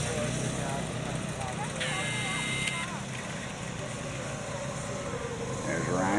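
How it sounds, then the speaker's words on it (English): Snowmobiles race around a snowy track near Winter Park, a steady engine drone holding throughout with a brief higher whine as a machine passes, under a commentator's voice. "There goes Ryan, they're racing."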